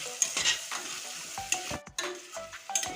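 Masala with turmeric being stir-fried in a pan for a soybean and potato curry, a bright sizzle punctuated by repeated scraping strokes and clinks of the spoon, nearby and unaccompanied by talk.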